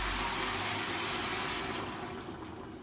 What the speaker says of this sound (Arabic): هسه اجيب مي حار، وهنا أنا راح اضيف المي